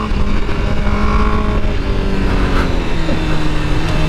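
A 2021 Honda CBR1000RR-R Fireblade SP sport motorcycle engine accelerating on the road, a loud, sustained roar with rising tones, heard close and alone.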